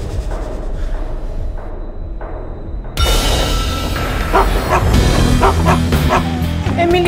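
A dog whimpers and yips in a series of short, high cries, then barks louder and more urgently close by, with voices talking over the commotion.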